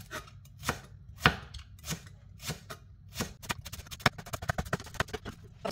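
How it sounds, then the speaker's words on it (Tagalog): A knife slices spring onion on a cutting board in a run of crisp, irregular chops that quicken toward the end, close and fairly quiet. "siwain lang din natin yung ating spring onion na ganyan"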